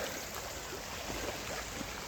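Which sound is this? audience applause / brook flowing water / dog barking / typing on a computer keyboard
brook flowing water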